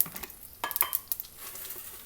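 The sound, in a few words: tempering mustard seeds, urad dal, dried chilies in oil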